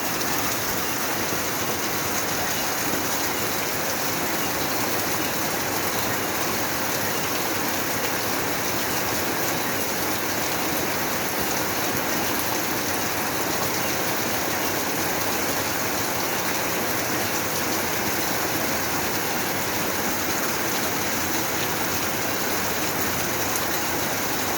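Steady rain falls continuously as a dense, even hiss, moderately loud and unbroken with no voices.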